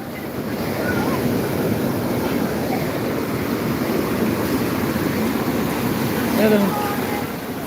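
A steady, roaring wash of broadband surf noise from big sea waves during a storm, close and loud, with wind buffeting the microphone; a faint voice rises briefly near the end.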